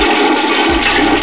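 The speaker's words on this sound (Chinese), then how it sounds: "从走廊那边的卫生间里传来了冲水的声音" A toilet flushes in a hospital bathroom down the corridor, a loud, steady rush of water that fills the whole moment, with a brief low gurgle near the middle and no voices.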